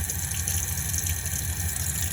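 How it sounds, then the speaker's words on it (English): A motorhome's water pump hums steadily while water runs from the hot side of the sink tap, a constant close whirring rush with no pauses. "So I'll just pull the tap on the hot side, wait for the pump to kick in."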